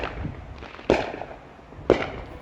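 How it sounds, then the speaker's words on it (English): Two sharp fireworks bangs about a second apart, each with a short crackling tail, heard over a low outdoor background at Halloween. "we'll send you off with this special Halloween message to the sound of fireworks"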